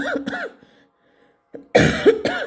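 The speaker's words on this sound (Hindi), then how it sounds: "मेरी खांसी बिल्कुल ठीक हो चुकी है, बस कभी कभार ऐसा हो जाता है जो आ जाती है" A single close cough bursts out loudly after a short pause, with voices talking before and after it.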